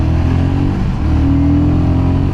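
A 400cc motorcycle engine revs loud and close, holding a strong, steady drone through the short stretch with no voices over it.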